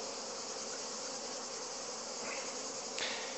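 Honeybees swarm over open hive frames in a beekeeping yard, making a dense, continuous buzzing drone that fills the whole clip at close range, with no talk.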